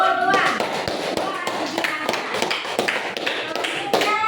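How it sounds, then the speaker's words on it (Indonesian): Classroom applause for a presenting student group, a dense stretch of many hands clapping at once with sharp taps throughout, fairly loud and close, with some children's voices faintly mixed in. "Tepuk tangan untuk kelompok 2."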